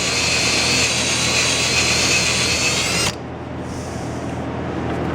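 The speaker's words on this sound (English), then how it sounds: "You gotta drill this out because the bolts don't fit." A power drill bores out bolt holes during a DIY home elevator build, whining loud and steady for about three seconds before cutting off, leaving a quieter hum of the room.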